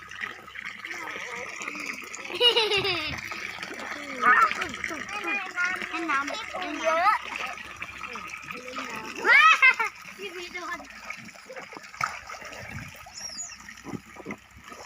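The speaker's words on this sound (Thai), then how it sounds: "อ่ามีน้ำตกด้วย น้ำตก" Water pours and splashes steadily from a small waterfall at a cool water-play garden, Suan Nong Koi. Children chatter and squeal over it throughout.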